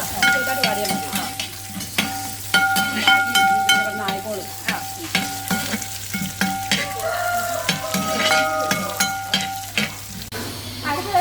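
Small shallots sautéing in a pan as part of a mussel dish with green peppercorns, giving a steady sizzle and fry with frequent stirring clinks and scrapes throughout, loud and close, with no talking.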